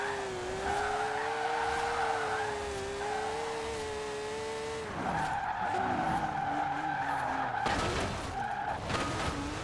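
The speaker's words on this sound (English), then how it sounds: "There's no real difficulty when it comes to actually sliding a car like this." An all-wheel-drive VW in Forza Horizon 4 slides through corners, its tires squealing in long sustained wails over a steady droning engine, the pitch wavering and shifting as the slide continues, loud and close with no voices.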